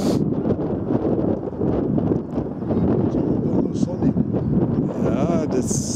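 Steady, blustery wind buffets the microphone beside Lake Eixer during an outing with radio-controlled model ships, a harbor tug and a motorsailer, a continuous rumbling roar with people talking underneath.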